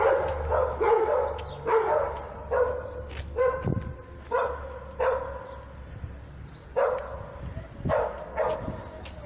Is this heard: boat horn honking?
no